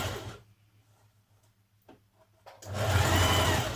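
A sewing machine stitches bias tape over a blouse frill, starting with a short whir, pausing in near silence with a few light clicks, then running again in a loud, steady close-up burst.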